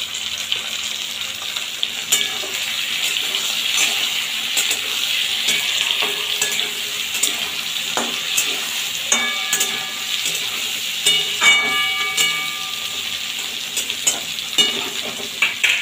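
Chopped tomato, green and ripe chillies and grated ginger frying together in a pan for a pumpkin and potato dish, a bright hissing sizzle that runs throughout, with intermittent spatula scrapes and light metallic clinks.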